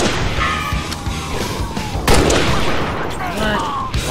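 Gunshots in a first-person shooter video game, scattered cracks and thuds mixed into busy game noise, with a voice talking over them at times.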